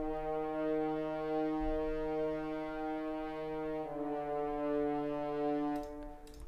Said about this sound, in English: That was basically a horn playing the bass notes again.